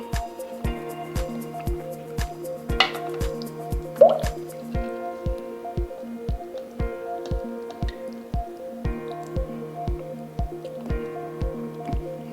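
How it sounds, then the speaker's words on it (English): Leche flan batter strained into a second bowl, with steady rhythmic wet drips and squishy plops falling at an even pace, close and clear against faint background tones. "Then now we're going to strain it again into our other bowl."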